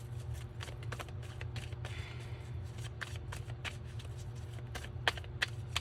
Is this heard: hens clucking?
no